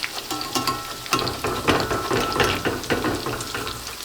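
Beer batter onion fritters fry in oil in a pan, a close, lively crackle and sizzle with bursts of popping and scraping as they are moved around.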